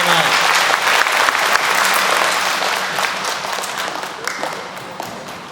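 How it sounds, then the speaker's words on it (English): At a school Veterans Day program, the audience gives a loud, sustained round of applause for a 4th and 5th grade chorus, many hands clapping together and then tapering off with some crowd murmur. "How about one more big round of applause for them?"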